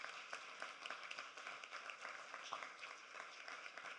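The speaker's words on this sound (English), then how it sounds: "how about a round of applause for the team at Henry Street?" An audience at a symposium gives a round of applause for a settlement house team, steady clapping heard faint and distant throughout.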